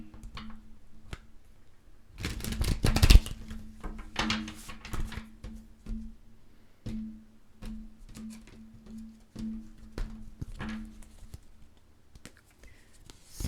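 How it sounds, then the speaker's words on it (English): Tarot cards being shuffled and drawn during a weekly reading, heard as soft papery riffles and taps with a brief louder burst of shuffling near the start, then scattered light flicks and slides, close by and alone. "Let's pull your preview card."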